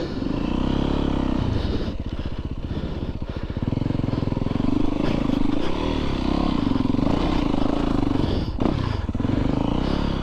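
Yamaha YZ450FX four-stroke dirt bike ridden along a wooded trail, its engine loud and close throughout, revving and pulling continuously with throttle surges and a rattle of clatter over the terrain.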